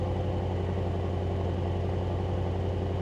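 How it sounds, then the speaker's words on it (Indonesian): A Mercedes-AMG GT engine idles smoothly and steadily after a cold start, a low even rumble holding for a few seconds with no voices. "Ini cold startnya nih. Cold startnya halus sih."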